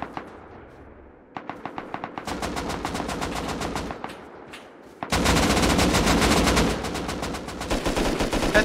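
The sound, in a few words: gunfire in video game Rust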